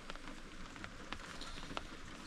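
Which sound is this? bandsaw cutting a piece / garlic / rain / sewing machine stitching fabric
rain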